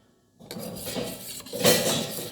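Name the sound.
stirring soup in a pot with a utensil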